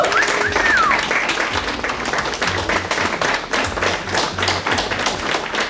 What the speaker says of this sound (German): Also, geben wir Roger eine Runde Applaus